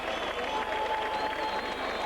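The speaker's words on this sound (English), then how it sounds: "Big cheer from the local crowd here at Widnes." A home crowd at a Widnes rugby league ground roars and applauds as the Widnes side runs out for a Lancashire Cup match against St Helens, a dense, sustained wash of cheering and clapping.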